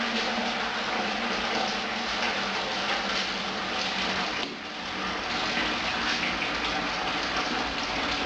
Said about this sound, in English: we're dropping them over. This will help with extra splashing and some aeration.